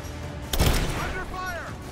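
Grenade explosions in Rise of the Tomb Raider: one loud boom bursts in sharply and then decays, with a voice speaking under the fading rumble.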